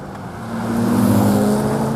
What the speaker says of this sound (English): It properly takes your breath away. It's the most exciting engine.